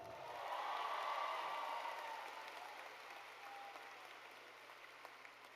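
Applause from an audience at the West High 2023 graduation ceremony, a broad steady patter of many hands that swells early, then tapers to a lighter, thinner sustained clapping.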